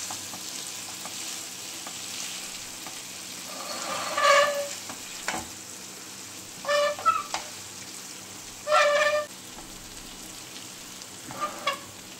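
Food fries in a hot pan with a steady sizzle, and spatula scrapes and stirring come in four short bursts.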